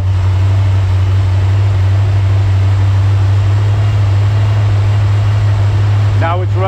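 A hydrogen-powered V8 engine runs at high RPM as a steady, loud, droning hum that holds throughout, with a brief whistling whine near the end.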